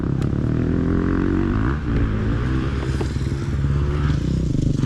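Engine of a Yamaha YZ125 two-stroke dirt bike running loud and close, its uneven idle sputtering and stumbling with clattering mechanical noise as it runs out of gas, no talking.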